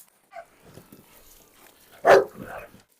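Dogs, including a Cane Corso puppy, let out a short whimper and soft sounds while being fed, then one loud close bark followed by a quieter yip.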